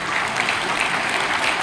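An audience applauds at a Vedic scripture promotion and distribution event in Gurugram, a steady, dense burst of clapping heard alone.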